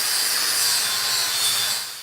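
A Norton EasyTrim trimmable flap disc grinds steadily and loudly, giving an unbroken abrasive hiss with no pauses that eases off slightly near the end.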